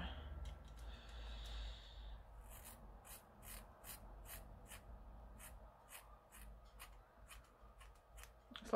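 Scissors snipping through a hair fringe close up, a run of quick crisp cuts in an irregular rhythm over quiet room noise, with soft rustling between snips.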